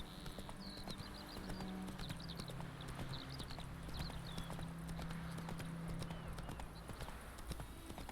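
Horse hooves clip-clop in a steady, quick rhythm across open countryside in the video game The Witcher 3, with a low engine-like hum and scattered bird chirps in the background.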